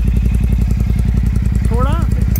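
A motorcycle fitted with a new aftermarket exhaust idles close by, giving a loud, steady, low pulsing thump with an even beat, and a short whistly squeal near the end.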